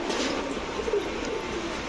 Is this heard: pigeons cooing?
yes